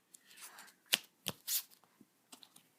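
Trading cards for a card game being handled and pulled from a deck, with quiet close riffles and soft snapping flicks in short, irregular bursts.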